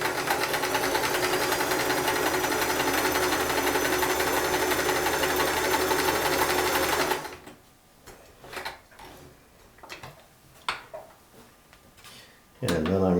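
A Sears Kenmore 158 series free arm sewing machine runs a shell stitch with a steady, loud, continuous mechanical whir for about seven seconds, then stops, leaving faint handling clicks and a brief restart near the end.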